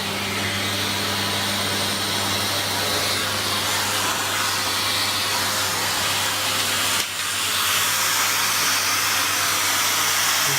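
A Bosch Relaxx'x ProSilence BGS5330R bagless vacuum cleaner runs continuously up close, producing a steady loud airy roar with a constant motor hum and a brief dip midway.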